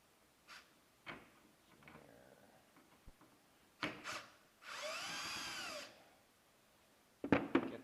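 A power drill backs screws out of a body panel on a Polaris Sportsman 850 ATV during a winch installation. Close, clattering handling noises come first, then one steady whirring run of about a second, followed by more clicks and knocks.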